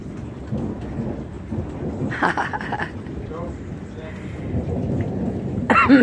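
Thunder rumbles through a stormy sky during near non-stop lightning, a low rolling roar under steady ambient noise, swelling in the middle and again at the end.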